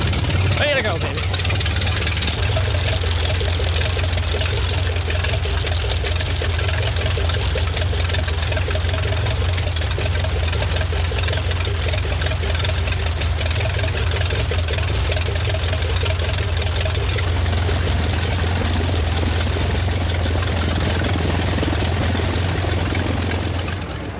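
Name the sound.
propeller aircraft engine running after start-up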